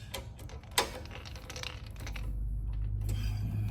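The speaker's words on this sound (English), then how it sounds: "Snugging these screws down tight." Screws are snugged down tight on flush bolts of an aluminium storefront double door, producing a string of small clicks and ticks followed by a low steady hum, close and moderately quiet with no speech.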